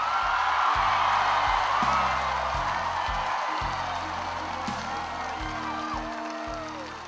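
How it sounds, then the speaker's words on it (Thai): Large outdoor political rally crowd at Ratchaprasong applauding and cheering to welcome Chuan Leekpai, a broad wash of clapping and shouting that stays loud and slowly fades, with an amplified voice over it at times. "ปรบมือต้อนรับท่านชวนหลีกภัยครับ"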